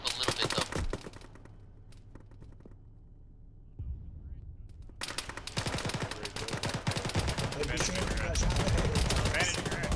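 Bursts of automatic gunfire and rapid shots in an Arma military shooter battle, dense at the start, dropping to a quieter lull, then resuming as a loud sustained firefight with overlapping shots to the end.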